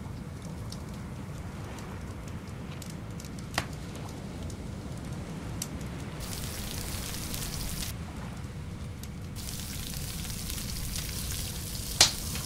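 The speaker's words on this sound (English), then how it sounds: "There, we're cooking two bits of the meat." Two pieces of meat cook over a fire in the survival game Stranded Deep, with a constant crackling sizzle throughout and a few sharp clicks, the loudest near the end.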